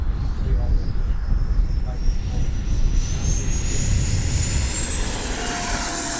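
A Freewing A-4 Skyhawk 80mm electric ducted-fan RC jet takes off, its steady roar joined by a whine that climbs in pitch as it gathers speed, loud and constant against outdoor wind noise.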